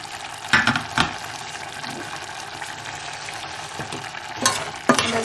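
Cauliflower curry with garam masala sizzles in a pan as it is stirred, a steady close frying hiss broken by a few scraping spoon knocks, with no talking.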